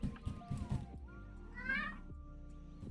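A house cat gives a short meow partway through, faint and indoors, amid quiet background noise and a person speaking softly nearby.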